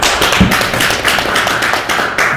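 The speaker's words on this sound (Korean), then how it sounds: "큰 박수 부탁드릴게요." Audience clapping at a social entrepreneur program briefing, a loud close patter of hands from a small group, fairly uneven and continuous through the moment.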